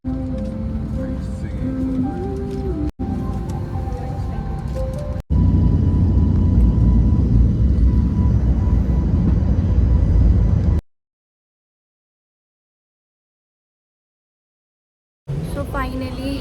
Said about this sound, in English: So I finally boarded the flight.